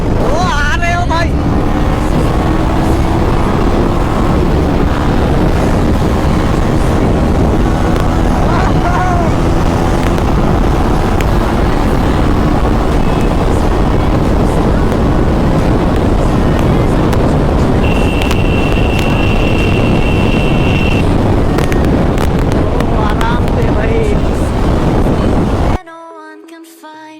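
A KTM Duke 390 motorcycle being ridden, its engine droning steadily beneath loud wind buffeting the microphone, continuous for most of the stretch before cutting off near the end.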